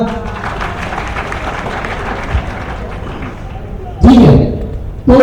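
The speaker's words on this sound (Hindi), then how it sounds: "अमजद के लिए तालियां।" A classroom group applauds for Amjad, a steady wash of clapping under spoken voices that swells into a louder burst near the end.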